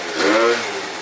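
A Yamaha BWS 70cc scooter engine revs up close: a loud, brief buzzing rise that peaks and eases off within about a second.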